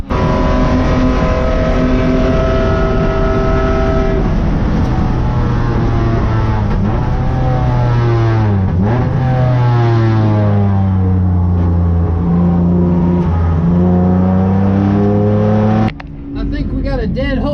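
Acura TL endurance race car engine running loudly and continuously, with rising and falling harmonic tones as it revs and shifts, ending in a sharp change near the close; the car reportedly has bad rings and heavy blow-by.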